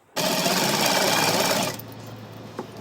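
Electric sewing machine running steadily while stitching a folded salwar waistband, a loud continuous motor whir for about one and a half seconds that then drops to a quieter hum with a small click.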